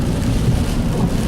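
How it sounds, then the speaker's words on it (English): Heavy Hurricane Harvey rain pours down in a steady, dense roar, with deep rumbling and wind buffeting the microphone throughout the short stretch. "Lots of rain"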